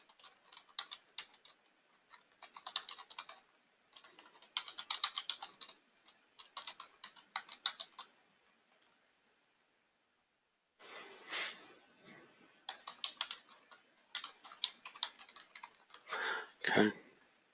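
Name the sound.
typing on a computer keyboard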